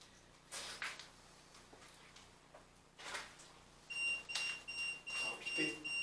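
An Ovilus paranormal device at an abandoned rubble farm gives off a high, thin electronic tone in short repeated pulses in the latter half, faint and close, between soft rustling and quiet French speech.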